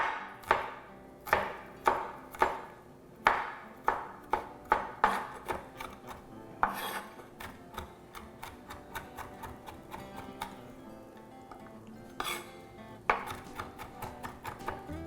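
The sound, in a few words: knife chopping garlic cloves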